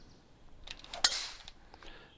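A golf shot struck in PGA 2K23 makes one sharp, bright click, preceded and followed by faint mechanical clicks and light rattles, heard alone against a quiet background.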